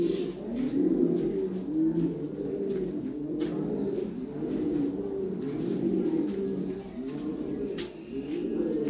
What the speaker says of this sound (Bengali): বিশাল সাইজের কবুতর, ঠিক আছে ভাইজান।